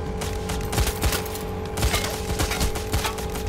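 Continuous rapid gunfire from the video game Payday The Heist, loud and dense, with overlapping bursts and no talk.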